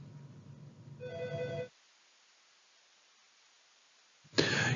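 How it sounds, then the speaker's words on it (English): A mobile phone rings during a shoulder anatomy lecture, with a melodic tone for about a second before cutting off, then silence until noise returns abruptly. "Mr. Shepard's phone is ringing."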